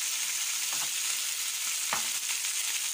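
Onion and garlic fry with pork belly in a hot pan for a Brazilian bean stew, producing a steady, loud, dense sizzle with a few faint stirring scrapes and no voices.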